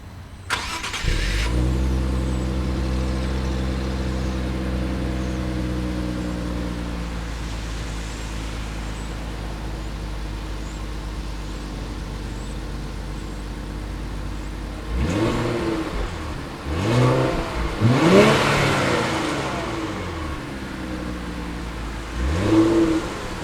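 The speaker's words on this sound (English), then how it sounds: "It's a 3-liter twin-turbocharged V6, which makes 400 horsepower and 350 pound-feet of torque." A 2018 Infiniti Q50 Red Sport 400 with a 3-liter twin-turbocharged V6 starts up and idles steadily, then revs sharply several times, rising and falling, loud and close, with no voices.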